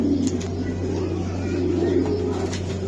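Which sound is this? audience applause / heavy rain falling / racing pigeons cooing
racing pigeons cooing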